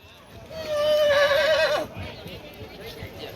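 A Marwari stallion at a ring show lets out one long, loud neigh close by, followed by hoof clops on the ground while voices call out around it.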